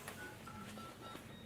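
A mobile phone sounds faintly among the audience at a talk in a hall, giving a few thin electronic beeps over the room's steady background hum.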